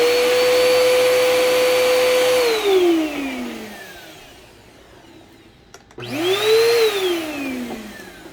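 A Bissell PowerForce Helix 12B1 upright vacuum, first generation and with a worn belt, whines loudly at a steady pitch, winds down to near silence, then restarts and spins back up before slowing again.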